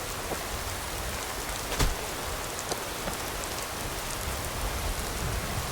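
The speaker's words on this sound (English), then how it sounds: "And the sound of the rain seems good." Rain in the Skyrim video game falling and splashing on water, a dense continuous hiss of drops with a few brief louder splashes, steady and fairly close.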